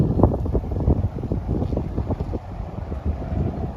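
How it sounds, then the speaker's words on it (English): Gusty wind buffets the microphone at a windy Spanish fishing lake, a steady low rumble with irregular pulsing gusts that runs throughout, loud and close with no voices. "I'll tell you something, it's windy today."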